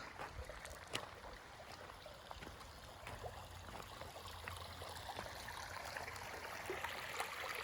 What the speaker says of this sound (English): Big old water still running at St. Edward's Park because it's a park preserve.